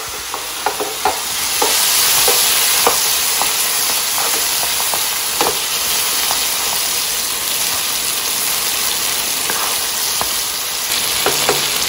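Mutton pieces fry hard in a karahi, a steady loud sizzle with bursts of steam hiss and repeated stirring scrapes throughout, no voices.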